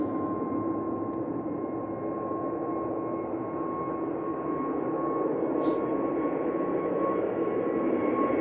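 An EasyJet airliner's jet engines at Manchester Airport give a steady, loud broadband roar with a sustained whine, continuous and unbroken throughout, heard from nearby outdoors.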